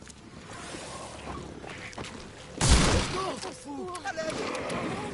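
In The Sinking City, enemies fire at the player, a sharp loud gunshot burst standing out above ambient game noise and voices, followed by scattered lighter impacts and vocal sounds.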